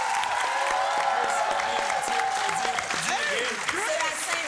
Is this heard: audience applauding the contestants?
yes